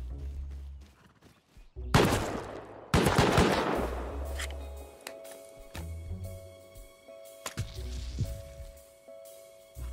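Automated turret gunfire in the survival game Rust, with heavy bursts of rapid shots and booming impacts that rise and fade over several seconds.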